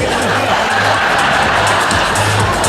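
An audience on a boat claps and cheers together, a dense, loud, continuous wash of crowd noise with some voices mixed in.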